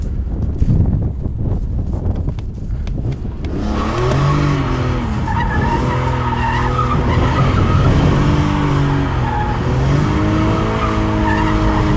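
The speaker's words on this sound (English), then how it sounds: "So I'm gonna start with just tight donuts, mostly to check out the steering feel of this thing." A BMW E46 M3 with 333 horsepower spins tight donuts, loud tire squeal wavering up and down over a revving engine after an opening stretch of engine roar and skid noise, with no talking.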